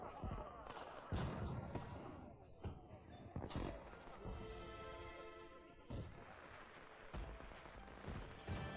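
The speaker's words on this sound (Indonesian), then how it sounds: "Kembang api." Sharp bursts and crackling pops of fireworks go off at irregular intervals, with people talking over and between the explosions.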